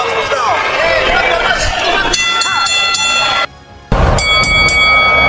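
A boxing ring bell clangs in bright repeated strikes over a loud, excited crowd and an announcer's voice at a pro boxing match, cutting out briefly before resuming.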